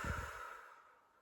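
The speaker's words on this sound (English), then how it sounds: "Okay, so empty your lungs completely." A long, soft exhalation as a person fully empties the lungs, a breathy rush that starts strongest and tapers away over about a second, heard close with no talk.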